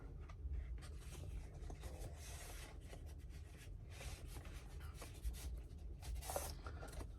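Vinyl record slid into a plain paper jacket, a quiet continuous rubbing and papery scraping with soft swishes and a few light bumps, close and faint, no talking.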